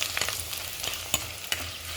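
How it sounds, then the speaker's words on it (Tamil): Buttermilk chillies (mor milagai) fry in hot oil with a bright, steady crackling sizzle and two sharp clinks of a utensil against the pan. "இது எண்ணெயில் பொரிச்சிட்டு காமிக்கிறேன் உங்களுக்கு."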